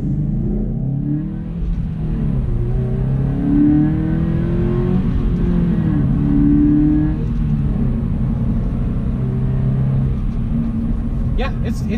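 Subaru BRZ 2018 four-cylinder engine revving, a loud continuous rumbling drone that rises and falls in pitch as the engine climbs through the revs, heard from inside the car.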